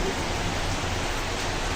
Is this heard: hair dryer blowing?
no